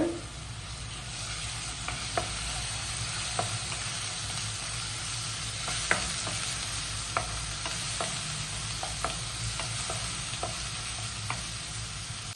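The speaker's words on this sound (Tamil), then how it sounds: "இது நல்லா வதக்கிக்கங்க கூட இஞ்சி பூண்டு பேஸ்ட்டு சேர்த்துக்கோங்க" Ginger garlic paste sautés in a kadai for a quail pepper fry, a soft continuous sizzle and hiss broken by light, irregular stirring taps, quiet and without speech.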